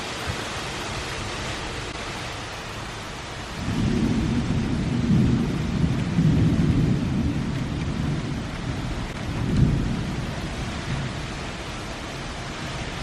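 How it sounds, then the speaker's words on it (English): Steady rain hisses throughout while deep rolling thunder rumbles in, swelling and fading over several seconds, then rumbling again more briefly. "Here comes the rain."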